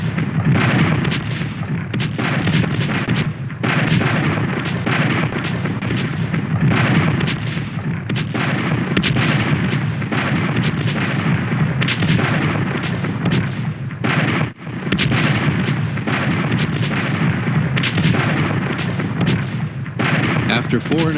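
Heavy cannon fire between the Civil War ironclads Merrimack and Monitor booms repeatedly in close, loud blasts over a continuous rumbling battle din, with some voices mixed in.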